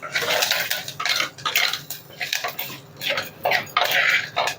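Metal utensils scrape and clink against a clay pot in quick, irregular strokes while stirring tempering with turmeric and asafoetida, close and moderately loud, with no talking.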